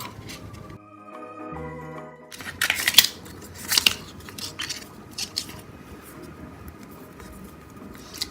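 Close scissors snipping through paper in a few quick, irregular crisp cuts, after a brief musical tone at the start.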